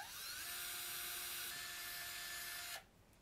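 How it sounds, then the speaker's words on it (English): Power drill driving oversized screws into a model rocket airframe, one steady high whine that holds for almost three seconds before cutting off abruptly. "I used a drill to help force them in"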